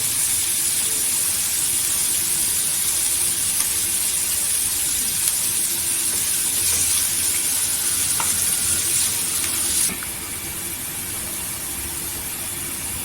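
Onion and curry leaves fry in hot oil with a loud, dense, even sizzle and hiss up close. Occasional stirring runs through it, and the frying noise drops somewhat just before the end.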